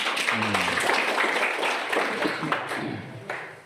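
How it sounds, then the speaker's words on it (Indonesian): A group applauding during a bed-making practice session, with a burst of clapping and a brief voice at the start, then the clapping thins out and fades. "tepuk tangan untuk kita semua"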